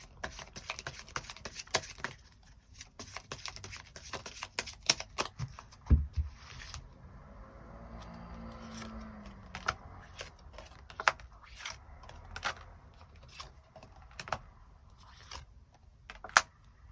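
Tarot cards are shuffled and drawn, quick dry riffling and flicking taps with sharp snaps as cards are laid down, close and fairly quiet.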